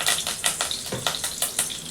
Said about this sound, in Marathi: तेल तापायला ठेवलेलं आहे, कढई आहे, त्यात आपण थोडासा कढीपत्ता टाकू